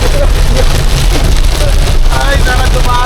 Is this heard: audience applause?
no